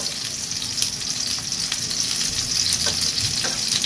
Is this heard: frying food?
yes